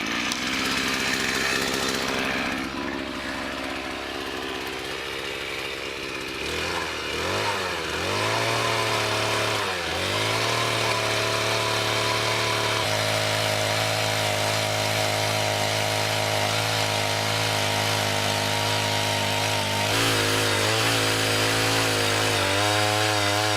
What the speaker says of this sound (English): I'm just going to pull the string line away and start drilling the holes.